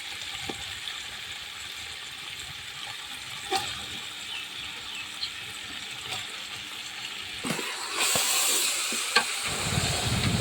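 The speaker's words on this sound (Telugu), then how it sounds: "చికెన్ అంతా బాగా కలిసేలాగా బాగా కలుపుకోవాలి." Chicken for Kuwaiti-style machboos being stirred and mixed in a frying pot over a wood-fired stove, with a steady sizzle and hiss, scattered clinks and scrapes, and a louder burst of frying near the end.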